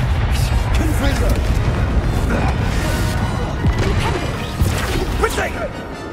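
Explosive Confringo fire spell blasts in Hogwarts Legacy combat, dense booming crashes and thuds layered through a noisy battle, with voices heard amid the impacts.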